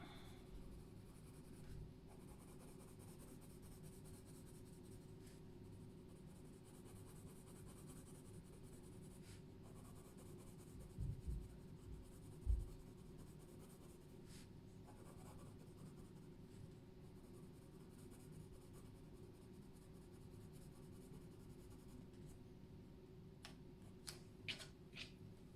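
A colored pencil scratches over paper in an adult coloring book, a faint steady rasp of soft strokes with a few small taps and no talking.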